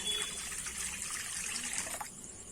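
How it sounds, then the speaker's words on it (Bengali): Water pours and trickles steadily into a pan set on a lit stove, a continuous close splashing flow that eases off near the end, with no talking. "সবার প্রথমে আমি একটু গরম জল করে নেবো"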